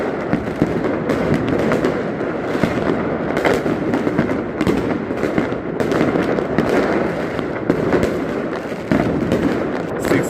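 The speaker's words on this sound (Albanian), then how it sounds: "ka shumë fishët zjarë në Tiranë" New Year fireworks exploding across a Tirana neighborhood, with dense, continuous crackling and popping bursts, loud and overlapping, with rapid firecracker-like rattles throughout and no pause.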